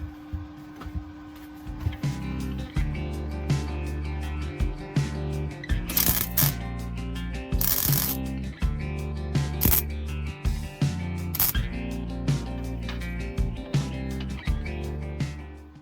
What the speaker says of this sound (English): So let's just weld that on there.